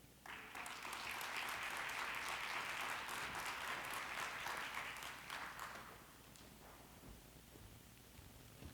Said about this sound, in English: Can we give him a round of applause one more time, please?